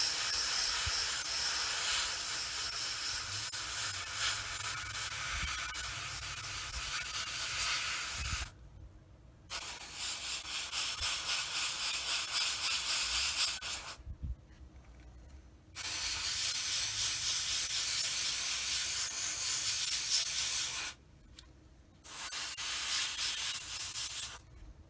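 An airbrush sprays paint onto a Tamiya 1/35 scale Sd.Kfz. 250/3 Greif model tank. The close, steady hiss runs in four long bursts separated by three brief pauses.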